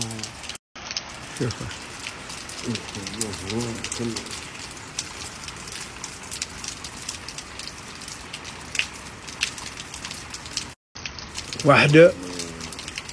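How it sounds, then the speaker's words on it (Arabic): Steady rain hisses throughout, a broad continuous wash with a few brief gaps, while someone speaks briefly over it. "هكذا تمطر خيرات من الله"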